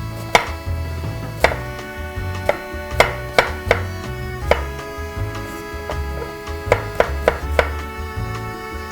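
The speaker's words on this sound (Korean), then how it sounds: "오이도 이렇게 이렇게 채 썰어 주시면 됩니" A knife julienning cucumber on a cutting board makes a series of sharp, close chopping taps in irregular bursts over a faint background hum, with no talking.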